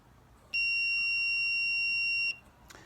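A multimeter gives one steady continuity beep lasting about two seconds while a new backup light switch for a Chevy S-10 is tested.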